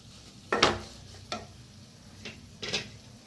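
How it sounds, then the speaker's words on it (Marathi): A spoon stirs potato bhaji in a pan, giving about four separate scraping strokes over a faint background, each short and close. "छान मिक्स करून घेऊया"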